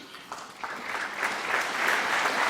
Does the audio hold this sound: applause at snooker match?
yes